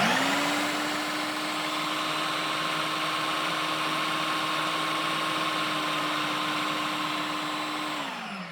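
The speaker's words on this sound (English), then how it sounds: "The thing about your food processor is you just have to be patient with it if you want to get the right consistency." A food processor grinds a quinoa pesto burger mixture with olives in a steady, loud motor whir. It holds an even pitch for about eight seconds, then winds down as it is switched off.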